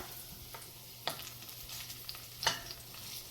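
Smashed garlic fries gently in oil over low heat with a soft, faint sizzle and a few light scrapes of a spoon stirring the pan, no voices.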